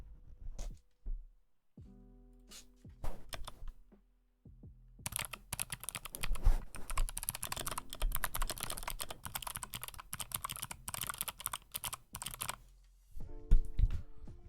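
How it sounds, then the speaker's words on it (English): Clicky computer keyboard with swapped switches being typed on, a dense, steady stream of sharp close keystrokes through the middle, with sparser clicks at the start and end. "You can't hear the keyboard. Hold on. Typing ASMR."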